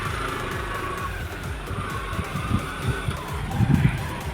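A car pulls away after a rainy-day delivery, its engine rumbling low and steady beneath a wash of rain and road noise, swelling slightly toward the end as it drives off.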